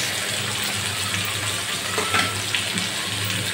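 Onions and green chillies fry in hot oil with a steady, dense hiss that runs unbroken throughout, close and fairly loud.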